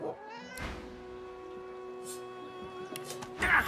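A cat meows in the fantasy video game Divinity, a drawn-out mewing cry over a soft ambient music bed, with a louder burst of sound near the end.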